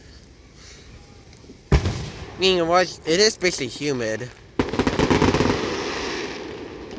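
Fourth of July fireworks burst overhead on a humid, foggy night, a sharp bang followed by a long, rapid crackling barrage, with a person talking in between.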